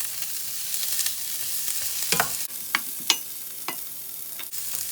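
Onions frying in a pan with seeds for paneer curry, a steady soft sizzle with a few brief clinks and stirring scrapes, fairly close and moderately quiet.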